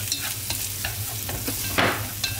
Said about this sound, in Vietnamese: Cho vào 1 muỗng hành tím, 3 lẻ xả đập dập nữa. Xào vô.